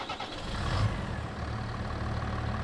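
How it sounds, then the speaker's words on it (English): Massey Ferguson 7S tractor engine in Farming Simulator 22, a steady mid-pitched diesel rumble that swells slightly near the start and then holds an even idle throughout, with no voices. "A little bit longer ignition time and a little bit bigger engine sound, of course."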